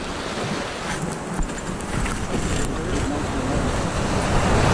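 Steady roar of big surf and 28-knot wind, waves washing continuously with gusty noise across the microphone, no voices.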